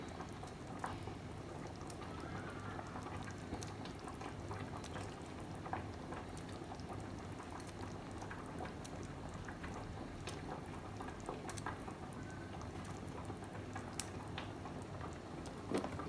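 Meatballs simmering in a big cooking pot give a steady, gentle bubbling and popping that runs throughout at low volume, with small scattered pops and no talk.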